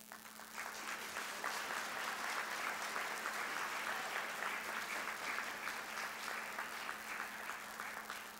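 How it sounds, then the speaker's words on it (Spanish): Warm round of applause from the audience at an accreditation ceremony, a sustained, even wash of many hands clapping that swells in quickly and holds steady. "Acompañemos este momento con un caluroso aplauso."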